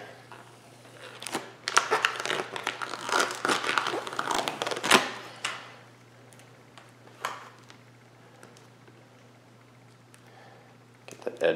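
Heat-warmed Vvivid carbon fiber vinyl wrap is peeled off a car scoop, making close crinkling, tearing and crackling that swells loudly and then thins to scattered faint rustles.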